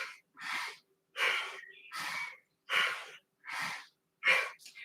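Breathing during a yoga vinyasa flow, a series of seven forceful, rhythmic breaths through the nose and mouth, evenly spaced and close, each a short breathy rush with brief pauses between.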